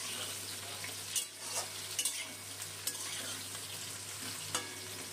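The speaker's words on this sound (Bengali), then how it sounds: "বেগুনটাও শিমের সাথে নাড়াচাড়া করে বেগুনটা ভেজে নেব।" Eggplant pieces stir-frying with flat beans in hot oil in a pan, a steady sizzle broken by soft scrapes and clinks of a spatula, close and without talk.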